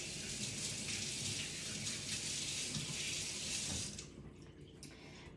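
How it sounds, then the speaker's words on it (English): Hands rinsed under a running kitchen faucet while cooking steak tacos: a steady, close splashing rush of tap water for about four seconds that then cuts off, leaving only faint drips. "I'm gonna rinse my hands real quick"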